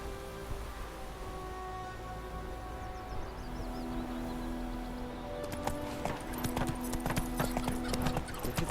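Roach the horse's hooves in The Witcher 3 clatter in a steady clip-clop rhythm over sustained musical tones, growing denser and louder toward the end, with a faint neigh and light rain in the background.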